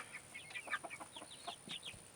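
Young chickens clucking and peeping in a crowded small pen, a steady run of short chirpy calls from several birds, moderately close and fairly quiet.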